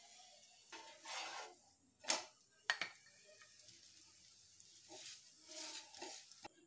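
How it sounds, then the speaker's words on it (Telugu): Hotel-style parotta flatbreads roast in a little oil on a hot pan. A faint, quiet sizzle rises and falls, with a few short sharp taps and scrapes from turning the bread, and no voices. "పరోటాలు గోల్డెన్ బ్రౌన్ కలర్ వచ్చే వరకు కాస్త నూనె అప్లై చేస్తూ కలుపుకోవాలి."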